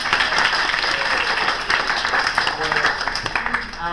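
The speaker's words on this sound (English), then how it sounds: "Please give a quick round of applause for our wonderful volunteer tech, Rory" An improv comedy audience claps for the volunteer tech, a moderate burst of applause mixed with voices and chatter throughout.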